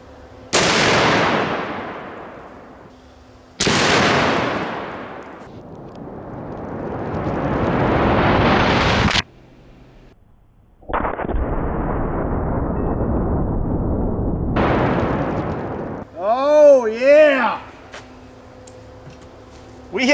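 .50 caliber SLAP rifle rounds fired at a 340 lb atlas stone, several sharp, loud blasts each followed by a long rumbling decay, with a short burst of voices near the end.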